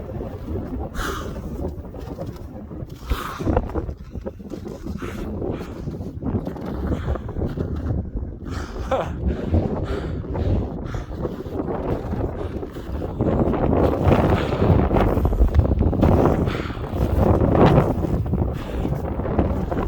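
Strong wind gusting high in the Peruvian Andes at around 18,000 feet on Pisco Nevado, a loud continuous roar and buffeting against the microphone that swells louder toward the end.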